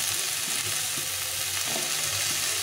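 Potatoes and squash fry in a pan for a vegetarian squash curry, giving a steady, close sizzle throughout with a few soft stirring knocks and scrapes.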